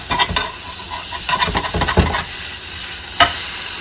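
Birria-dipped tortilla sizzling loudly in a hot pan just after being flipped, a steady close frying hiss with crackling bursts throughout.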